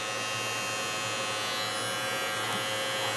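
A Xiaomi Mitu baby hair trimmer runs close by with a steady, loud electric buzz and hum that holds unbroken throughout.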